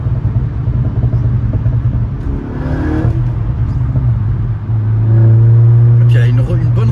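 A Seat Ibiza Cupra TDI with a stage 1 tune, its diesel engine droning low and steady, then swelling louder as it accelerates near the end, with voices talking inside the car.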